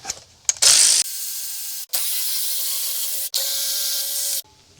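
A ratchet loosens compressor bolts on a 1971 Cadillac 472 engine during top-end teardown: a brief hiss, then three long, loud, steady ratcheting runs close by, each stopping and restarting after a short gap.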